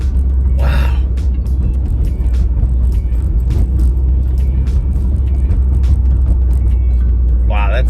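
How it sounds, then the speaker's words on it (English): A 2016 Subaru WRX fitted with a MAPerformance intake and tune gives a constant loud engine rumble and turbo whoosh from inside the cabin, with brief airy intake hisses near the start and end. "I can actually hear my intake."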